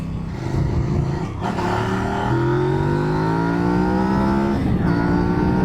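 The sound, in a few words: Kove 800X Rally motorcycle engine accelerating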